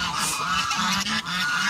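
Ducks call nearby in loud, repeated honking quacks, several overlapping calls rising and falling in a busy chorus with no speech over them.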